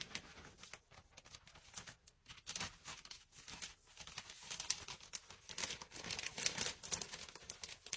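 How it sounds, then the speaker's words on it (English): Sterilised grain bags crinkle and crackle as they are folded, a soft, close, irregular plastic rustling that rises and falls with no talk. "I'm going to fold these bags up the same."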